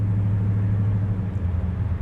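Big block 1968 Chevrolet Camaro idling, a deep, steady, throaty exhaust rumble heard up close and loud throughout, with no voices.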